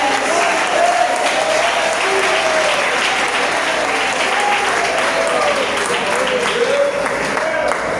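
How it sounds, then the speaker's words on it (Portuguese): A church congregation breaks into steady, loud applause, dense clapping that holds for several seconds with voices shouting and calling out over it. "Pode aplaudir para dar glória."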